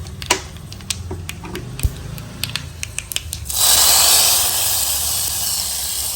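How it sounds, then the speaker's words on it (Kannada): Mustard seeds crackle in hot oil with curry leaves, dried red chillies and cumin for a tempering. Sharp scattered pops come close for a few seconds, then a loud, broad hiss takes over. "ಇವಾಗ ಒಗ್ಗರಣೆ ಅಂತ ಸಿಡಿಯೋದಕ್ಕೆ ಸ್ಟಾರ್ಟ್ ಆಯಿತು"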